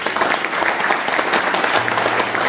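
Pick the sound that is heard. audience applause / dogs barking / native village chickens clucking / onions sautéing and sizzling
audience applause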